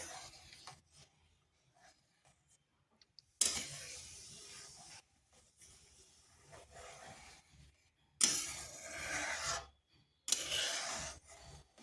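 Sabudana is stirred continuously in a pan, giving soft scraping and rubbing strokes in several louder bursts separated by quieter stretches.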